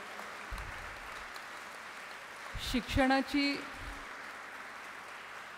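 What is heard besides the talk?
audience applause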